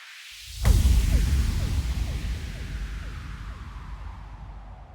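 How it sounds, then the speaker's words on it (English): A bass house breakdown effect: a deep impact hit lands, followed by a long descending down-filter sweep with a rumbling tail that slowly fades, loud and alone. "Then some effects like up filters, down filters and impacts."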